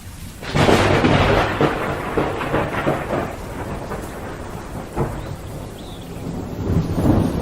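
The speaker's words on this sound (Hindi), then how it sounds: "इस बार मौसम इतना खराब हो गया कि इतनी बारिश हुई" Heavy rain pours steadily with rolling thunder, a loud crack rising near the start and further rumbles and bursts through the storm, no voices.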